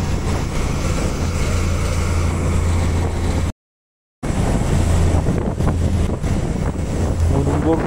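A fishing boat out on the open Arabian Sea runs steadily, its low engine drone steady under a loud wash of wind and sea noise, with a brief dropout partway through.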